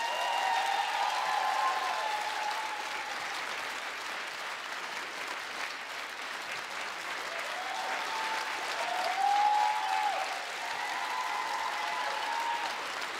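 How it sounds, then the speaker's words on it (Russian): An audience at a KVN comedy show keeps up long, sustained applause, a dense, even wash of many hands clapping from a distance with faint crowd cheers rising and falling underneath. "они слышат ваши аплодисменты, которые продолжаются"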